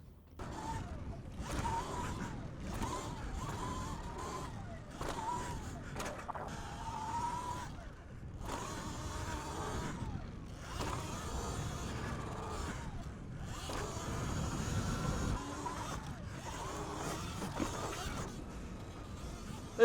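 Riding a 2024 Sur-Ron Light Bee X electric dirt bike, with steady mechanical whirring and chain-and-drivetrain rattle carrying on continuously, rising and falling in bursts, near and moderately loud.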